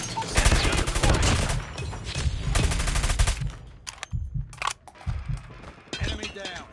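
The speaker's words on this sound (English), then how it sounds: "Sentry gun deployed." Sentry gun in the Control video game firing rapid bursts, loud and close, in a dense stream for a few seconds before breaking into scattered shots and impacts.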